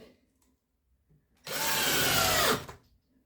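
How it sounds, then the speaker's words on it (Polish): A nine-year-old cordless drill driver sinks a screw into wood in one close, loud whirring burst of about a second, with quiet handling noise before and after. "do 5 cm kręcenia tą wkrętarką jest spoko, bez żadnego ale"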